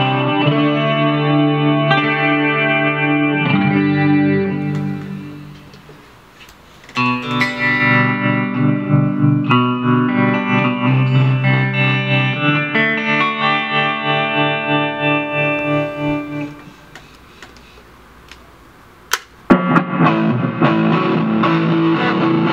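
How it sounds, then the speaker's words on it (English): Blackstar ID series guitar amplifier playing factory presets with effects: electric guitar chords and riffs, loud and close, shifting through distorted, chorus-laden and reverberant tones with brief pauses between patches and no talking. "just listen to a few of these sounds because they're very usable sounds."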